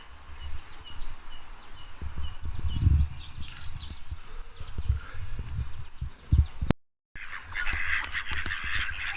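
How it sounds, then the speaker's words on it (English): Startled ducks in Ochil Park, Dunblane, give honking and flapping sounds that are scattered and mid-distance. They sit over outdoor rumble and footsteps, with a brief dropout near the end. "It looks like I've just scared all the ducks away."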